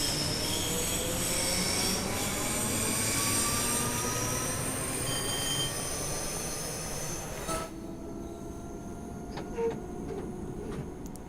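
A ScotRail Class 314 electric train in Train Sim World 3 runs steadily around the Cathcart Circle, with a loud continuous rumble of wheels on rails and high squealing from the wheels that eases near the end.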